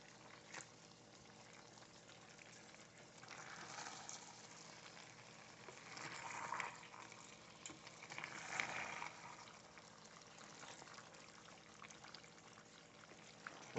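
Chili being stirred in a pot, soft wet sloshing and bubbling swells that rise and fall in a few slow waves, faint and close, with no talking.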